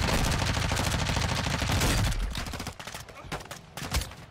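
Modern Warfare 2 campaign firefight with dense, sustained automatic gunfire that then thins into scattered louder shots and bursts, with a voice talking faintly over the battle.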